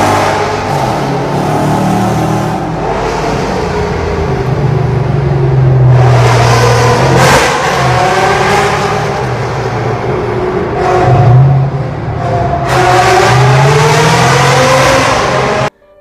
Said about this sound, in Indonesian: Dia sangat menyukai suara deru mesin mobil barunya